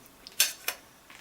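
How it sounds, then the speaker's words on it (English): A utensil clinks against a container while stirring liquid during an electrolysis setup, giving two short bright metallic scrapes close by and a faint third tap at the end, with no talking. "I'm going to stir it up a little here."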